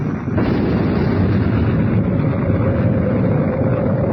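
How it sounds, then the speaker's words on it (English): A loud, sustained roaring rumble of an explosion inside the Sphinx in a Fantastic Four radio drama, dense and continuous from start to finish with no pause. "An explosion inside the Sphinx."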